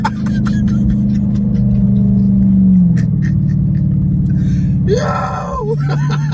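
Car engine revving hard with an aftermarket Pedal Commander throttle controller, a loud near roar that climbs and drops, with people exclaiming and shouting excitedly over it near the end.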